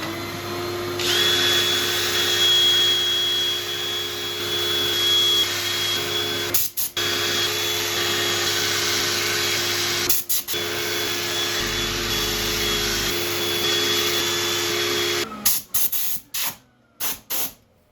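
A power sander whirs loudly and steadily on a turned wooden bowl for a long stretch, pausing briefly twice, then cuts out in a few short stops at the end.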